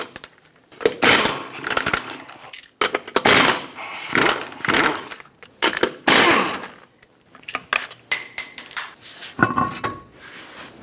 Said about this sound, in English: Use a 21mm socket, remove the 4 lug nuts that hold the wheel on, and then remove the wheel